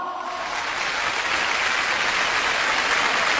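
Audience applause fills a concert hall at a Xi opera (Wuxi opera) concert, a dense, steady wash of clapping from a large crowd that holds at even strength throughout.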